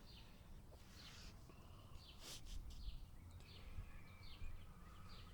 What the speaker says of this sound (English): I hope perhaps you can hear the birds